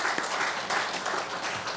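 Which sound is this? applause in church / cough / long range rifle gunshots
applause in church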